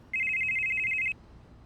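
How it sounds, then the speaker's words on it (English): A phone rings once in a short electronic burst that lasts about a second. It is a rapid, warbling trill that stands out clearly over a quiet room, with no talking. "his phone's gonna ring."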